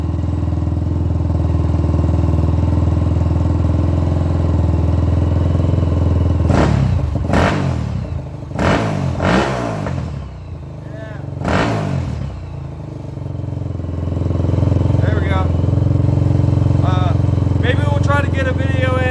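A Yamaha YFZ450R quad bike, left unstarted for a long time in cold weather, runs with a steady low engine note, then gives several sharp revving bursts in the middle before settling back to an even idle.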